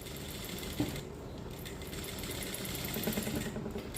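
A sewing machine stitches around a blouse neckline in one continuous, close, fairly quiet whirring run without pause, with a faint hum behind it.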